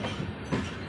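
A DEMU express train runs with a steady low rumble and faint rhythmic rail clatter, one slightly louder knock midway, in a single brief moment.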